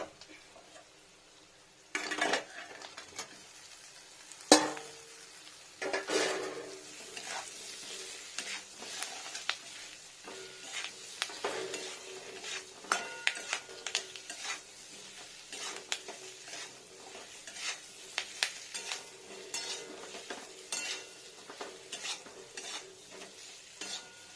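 Potatoes fry with yogurt in a pan, giving a steady close sizzle broken by frequent scraping stirs of a utensil against the metal, with no talking.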